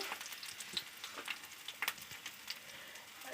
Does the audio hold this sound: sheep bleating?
no